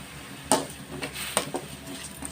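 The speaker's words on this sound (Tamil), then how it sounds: "ஒரு 3 தக்காளி அரைஞ்சி வச்சுருக்கோம், அதை நல்லா போட்டு கிளறி விட்டுக்கலாம்." Ground tomato being stirred in a pan for goat botti gravy: a spoon scrapes and clinks against the metal in a few sharp knocks, with soft scraping between them. The sounds are close and fairly quiet, and no one speaks.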